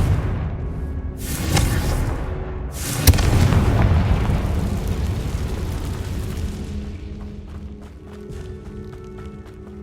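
Confringo blasting-spell explosions in the video game Hogwarts Legacy: two heavy booms crack out close together near the start, then a long rumbling decay fades slowly under game ambience.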